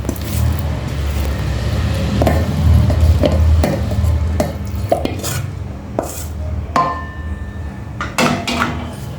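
Gongura leaves dropped into a frying pan and stirred, with a run of sharp clanks and scrapes of a utensil against the pan over a low background rumble, the knocks spaced irregularly and loud up close.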